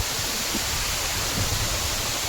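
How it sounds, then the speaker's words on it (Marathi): A waterfall pours through heavy rain at Kasmel, a hill spot near Pen, making a steady, dense rush of broadband water noise that stays even throughout with no voices. "धबधबा"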